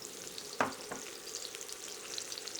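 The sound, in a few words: sweet onions frying in a pan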